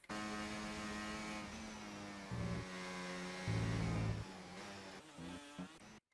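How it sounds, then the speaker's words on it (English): A Formula 1 car in the racing game F1 24 drives through a corner and out of it, its high-revving engine howling steadily with quick gear shifts and surges as throttle is reapplied, loud and close with no voices. "you can listen to the car audio yourself"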